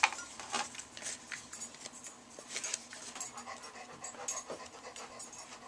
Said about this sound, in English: If you hear some panting, that's my dog Hershey.